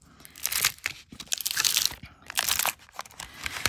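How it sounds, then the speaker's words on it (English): Wide metal craft tape is crumpled by hand, producing close, crisp bursts of crunching and crinkling in irregular handfuls, with brief pauses between them and no speech. "when you crumple your tape, it's much easier to work with because it doesn't curl onto itself"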